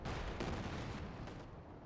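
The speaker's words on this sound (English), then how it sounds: "Shots coming in." Gunfire and artillery in the real-time strategy game Company of Heroes 2, with anti-tank guns firing: a dense, muffled rumble of distant shots and booms layered continuously at low volume.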